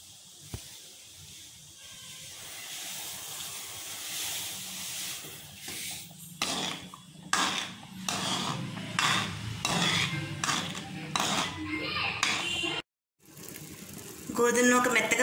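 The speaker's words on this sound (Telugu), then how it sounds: "ఇప్పుడు మనం దీంట్లో గోధుమ నూక వేసుకోవాలి. కలుపుతో వేసుకోవాలండి" Wheat semolina is stirred into boiling water in a pot: a quiet bubbling hiss at first, then a run of loud, irregular scraping and pouring bursts, a brief drop to near silence, and a louder swell at the end.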